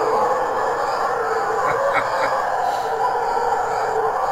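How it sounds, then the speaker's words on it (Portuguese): Howler monkeys calling loudly in the Amazon rainforest, a sustained droning roar carried from a distance over steady forest background noise. "Isso é uma vocalização de um macaco bugio."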